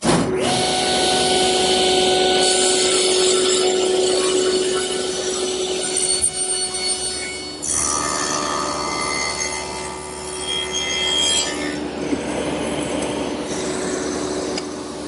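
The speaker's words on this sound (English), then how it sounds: "I've adjusted the miter gauge and I'm going to trim it off." A saw trims a plywood piece guided by a miter gauge for a Queen Anne table, running as a loud, steady whine with a rasping bite through the wood for the whole stretch.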